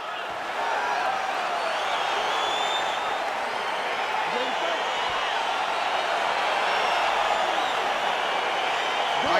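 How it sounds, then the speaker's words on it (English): A virtual arena crowd in the UFC 4 fighting game, at a Ciryl Gane versus Sergei Pavlovich bout, gives off a steady, broad roar of cheering and scattered applause that holds throughout. "crowd getting excited as this fight gets underway"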